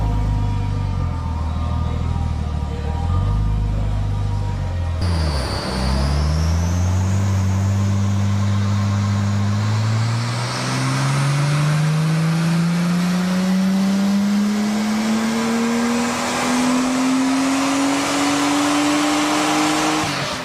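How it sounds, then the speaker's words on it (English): An HPI R34 Skyline fitted with an angled stainless rear muffler idles briefly, then its engine revs and climbs in one long, steady sweep to the top of the range, loud and close, with no talking. "The slightly angled rear muffler looks great and it sounds a lot better too."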